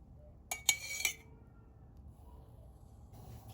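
Zucchini dolma stuffing of rice, salt, pepper, dried mint and sunflower oil mixed in a bowl, with three quick clinks of a spoon against the bowl and then quiet, soft mixing.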